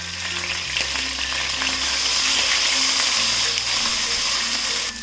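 Ginger garlic paste and curry leaves sautéing in a hot pan, a steady close sizzle and crackle with faint stirring scrapes, no voices.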